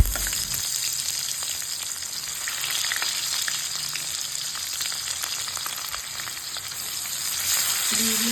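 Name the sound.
dried red chilli and cumin sizzling in hot oil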